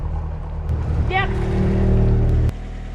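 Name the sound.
sailboat inboard engine running after start-up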